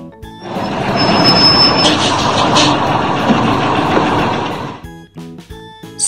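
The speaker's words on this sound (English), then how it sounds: "School bus. Bus sekolah." A cartoon school bus sound effect: a loud engine roar that holds for about four seconds, then cuts off into short clunks and beeps.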